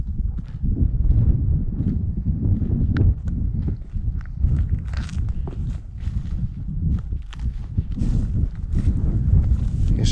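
Wind buffets the microphone on a coastal cycle route along the Caledonia Way from Oban to Campbeltown, a loud, continuous low rumble with gusty surges and occasional rattles, close and steady with no talk.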